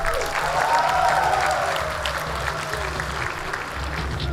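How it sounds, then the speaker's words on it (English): Steady applause from a crowd at a pageant show fills the room, sustained and fairly loud throughout, with faint voices mixed in. "let's give a big round of applause to all our family and friends in Samoa"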